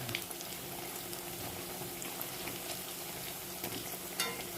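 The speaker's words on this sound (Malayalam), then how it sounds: "എണ്ണയിൽ കിടന്നു. ഇതാ നമ്മൾ ഒക്കെ ഇങ്ങനെ മറിച്ചിടുന്നു." Food fries in oil in a pan and is turned over, making a soft, steady, bubbling sizzle with faint scrapes, quiet and continuous throughout.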